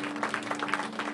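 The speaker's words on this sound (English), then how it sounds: "let's give God a hand clap in this house for today" A church congregation claps hands, a brief burst of dense, fairly distant applause over a steady low hum, lasting only about a second.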